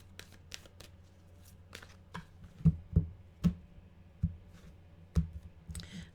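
Tarot cards are shuffled and handled in short, sharp clicking and riffling bursts, close and fairly quiet, in an otherwise still room.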